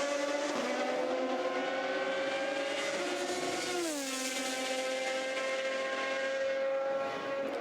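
Sports cars at Le Mans roar continuously at high revs, engine pitch rising and shifting as they push hard around the track, loud and close throughout.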